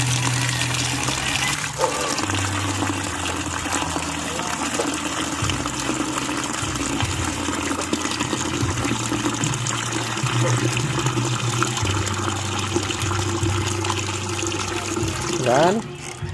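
A little water is poured into a container, producing a continuous gushing and filling sound that runs for the whole stretch, with background hum and a brief sharper swirl near the end.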